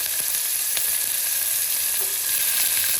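Onion fries in a pan with curry leaves and garlic, making a loud, close, continuous sizzle with a few brief stirring knocks.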